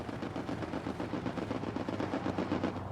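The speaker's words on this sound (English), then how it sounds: "So they started shooting my way. So I shot back at them" Sustained game gunfire in Hell Let Loose, a dense, loud, continuous stream of overlapping machine-gun and rifle bursts with no pauses.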